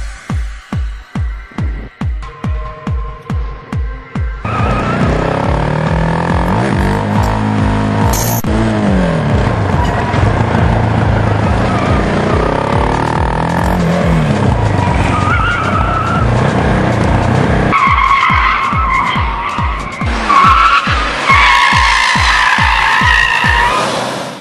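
A Mitsubishi Lancer Evo 9 rally car with all-wheel drive and 280 hp, in Group N specification: a loping idle, then a sustained loud engine roar with tire squeal and skidding, heard close from inside the car.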